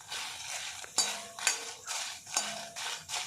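Onions fry in oil in a pan over a slow flame while a spoon stirs and scrapes them, giving several quiet clinks and scraping strokes about half a second apart over a soft sizzle.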